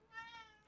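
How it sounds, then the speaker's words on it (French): A single house cat meows once, clear and close, with a sharp little click or bump right at the end. "Oh mon chat."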